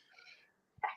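A single short, faint sneeze bursts out near the end of a quiet moment during a live boxing watch-along, preceded by soft breathy noise.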